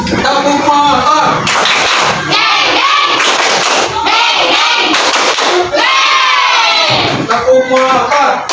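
A standing classroom of students performs the 'tepuk motor' clapping chant, voices loudly chanting and imitating a motor's revving in bursts, with rhythmic claps and thumps between phrases.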